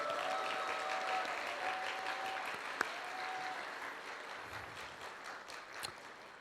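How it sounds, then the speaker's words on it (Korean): Applause from a church concert audience honoring a tenor's wife, a steady broadband patter of many hands at moderate level, fading slightly toward the end with no talk over it. "박수 한번 주십시오"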